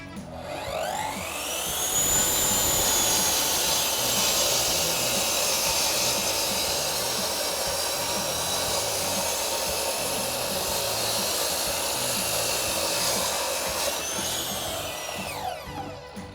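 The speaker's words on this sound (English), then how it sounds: "That's the R300 Dct, our 12-inch concrete cutting saw." An Evolution R300 DCT 12-inch electric concrete saw spins up, cuts through an insulation brick with a loud, steady high whine, then winds down at the end, with no talking.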